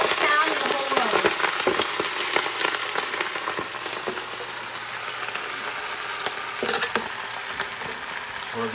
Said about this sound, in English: we're gonna saute in those greens